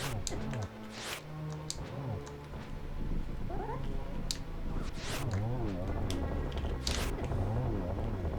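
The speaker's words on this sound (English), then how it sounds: "I'm glad those cats got a home." Cats meowing inside the Link to the Past Randomizer video game, with several game-style meows and chirps mixed over a busy soundtrack of music and effects, while a voice talks at times.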